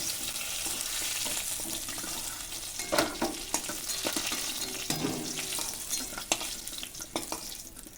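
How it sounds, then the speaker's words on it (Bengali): Potatoes coated in turmeric and salt fry in hot oil in a pan, giving a constant quiet hissing sizzle broken by occasional scrapes and pops as they are turned. "আলুগুলো লাল লাল করে ভেজে নেব।"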